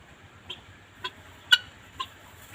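A black hen in her coop gives five short, evenly spaced clucks about half a second apart, each one clear and close over a quiet background.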